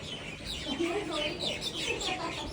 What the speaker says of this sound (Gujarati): સવાર પડી ગઈ અને બહાર કોયલો કલબલ કરી રહી